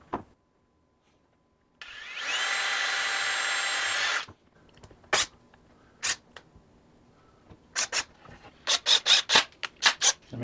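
Drilling a new pivot hole in a circle cutting jig: a steady, loud whine of the power drill lasting about two seconds, then a series of sharp knocks and taps that quicken into a rapid cluster near the end, close up.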